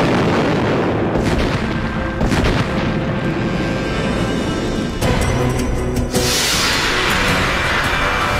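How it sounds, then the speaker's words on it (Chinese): Heavy bombardment of Shanghai by Japanese forces during wartime, with dense booming blasts and artillery fire merging into a continuous loud roar, sharp bursts punctuating it, no talk. "上海被日军轰炸"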